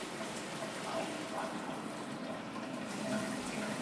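Rainfall shower head spraying water, a steady, fairly loud hiss of falling spray that continues without a break.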